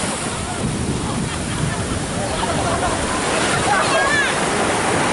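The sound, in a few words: ocean waves at the beach in Kenting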